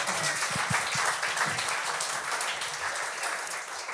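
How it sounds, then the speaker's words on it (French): A comedy show audience applauds steadily: moderate, continuous clapping from a crowd, with a few close, distinct claps standing out near the start. "Vous pouvez au moins applaudir ça."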